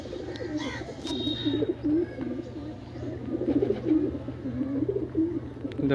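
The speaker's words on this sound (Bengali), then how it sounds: "প্রথম পায়রা এসে গেছে।" Andhra pigeons coo softly and steadily in a loft, a low rolling murmur of several birds close by, with a few faint chirps and no talking.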